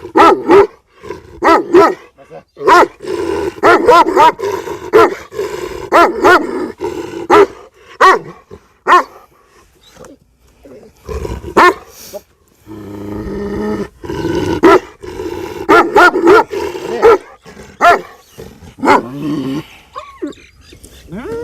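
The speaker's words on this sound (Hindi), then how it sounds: "जब भी डॉग आपको भौंके" A large desi bully-type dog barks and growls in loud, close bursts, with repeated gruff barks interrupted by pauses and a stretch of rumbling growl in the middle.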